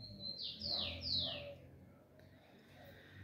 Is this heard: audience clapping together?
no